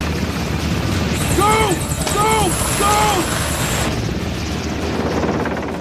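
Steady, loud helicopter rotor roar from a Black Hawk Down film scene, with a high whine and brief tonal calls cutting through.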